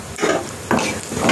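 Green chilies, curry leaves, onion pieces, chana dal, urad dal and mustard seeds fry in hot oil as a tempering, a loud close sizzle with bursts of stirring, no voices.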